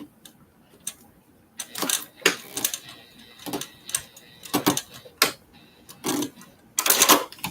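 A sewing machine top stitching along a zipper, working in short bursts of rapid mechanical clatter separated by pauses, fairly close and moderately loud.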